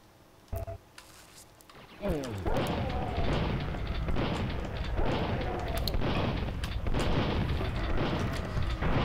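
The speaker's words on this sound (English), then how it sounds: "Grenades." Grenade blasts in the Nukem 64 shooter on the Nintendo 64: a sharp burst near the start, then a loud, dense barrage of booming explosions and rumbling debris that rolls on steadily to the end, with a voice speaking briefly over it.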